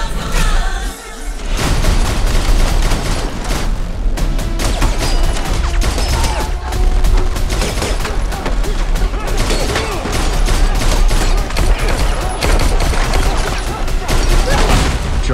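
Dense gunfire from a John Wick film action scene, with rapid overlapping shots, booms and crashes sounding continuously and loudly throughout.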